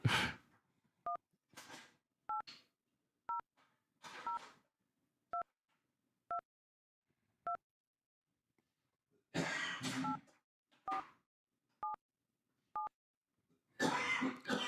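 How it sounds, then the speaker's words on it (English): Touch-tone telephone dialing: about eleven short, clean keypad beeps spaced roughly a second apart, with bursts of handling noise and rustle between some of them, in an otherwise quiet room. "Let me phone that number."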